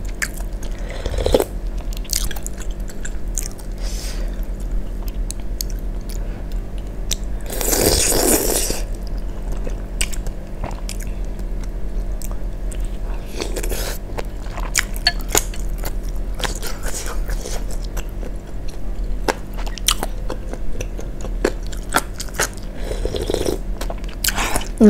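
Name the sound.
chewing and biting spicy chicken-cheese wontons in soup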